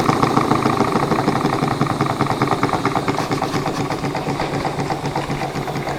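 A small steam engine runs with its steam valve barely cracked open, a fast steady chuffing and mechanical clatter, close and loud throughout.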